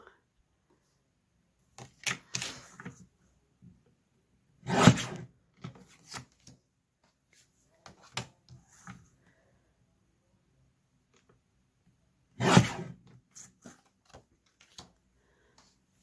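A paper trimmer slices the top borders off Thoth tarot cards, giving a few sharp crisp chops spaced several seconds apart, each followed by light handling clicks and rustles in a quiet room.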